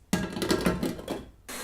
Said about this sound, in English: we're going to mix this up on high for about another 10 to 15 minutes